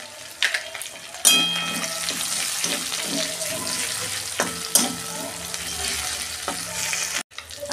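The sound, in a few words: black cumin seeds sizzling in hot oil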